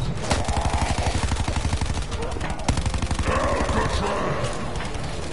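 Rapid automatic gunfire from the Black Ops 4 Zombies video game, Coliseum map, loud and continuous in fast repeated bursts with a few sharper shots standing out.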